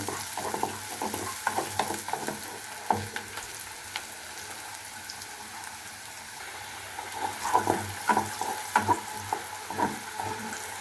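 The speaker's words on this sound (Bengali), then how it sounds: "পেঁয়াজটা আমি ভালোভাবে ভেজে নিচ্ছি।" Onions frying in oil in a pan, a steady sizzle with intermittent scraping and stirring clatter, louder bursts of stirring toward the end, no voices.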